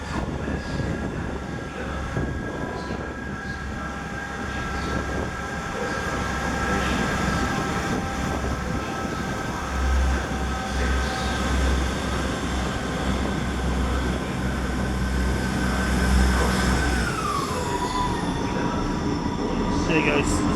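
A South Western Railway train departing Exeter St Davids, its engine drone and wheel rumble steady and close, with a sustained squealing tone that drops in pitch near the end; a voice is heard briefly over it.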